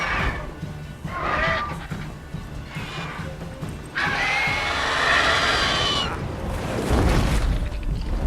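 A horse in the video game The Witcher 3: Wild Hunt gives several loud whinnies and neighs in bursts, mixed with game sound effects and a rougher crash-like burst near the end.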